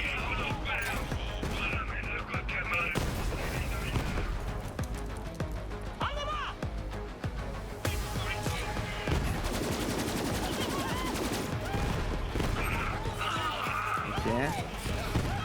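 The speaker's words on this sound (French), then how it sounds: "J'essaie de faire les kills au fusil à pompe." Shotgun fire in the video game Borderlands 3: rapid repeated blasts and impacts crowd a busy, loud game mix with overlapping effects throughout.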